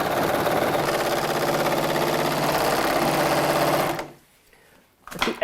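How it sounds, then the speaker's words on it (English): Overlocker sewing machine stitching tacked pieces of fabric for scrub trousers, a loud rapid mechanical whir held steady for about four seconds before stopping abruptly. "Doing detailed work with an overlocker, you tack the pieces of fabric together"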